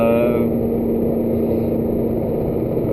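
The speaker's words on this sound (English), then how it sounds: "here you hear the right seat rattling" A loose right-hand passenger seat rattles inside a moving 2005 Suzuki Ignis Sport with a 1.5-litre M15A engine, a busy irregular clatter running steadily under a constant low engine and road drone.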